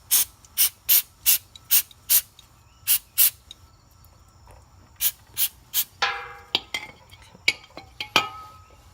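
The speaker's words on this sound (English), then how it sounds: "I'm just going to take a little brake clean and clean in here" Brake cleaner aerosol sprayed on a Ninja 250R brake caliper in repeated short hissing bursts, about eight quick evenly spaced blasts, then a pause and more irregular sprays mixed with small clicks and rattles, close and loud.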